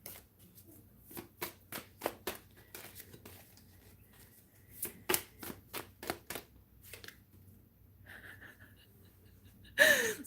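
Tarot cards are shuffled by hand in a quiet room, a series of crisp riffling bursts in uneven rhythm, close and fairly soft, with a brief breath or voice sound at the end.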